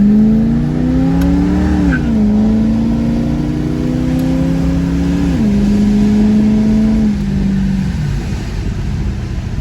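Ford Mustang engine idling and running with a misfire, a steady, close, loud hum whose pitch dips and rises a few times under light load, with no talk over it.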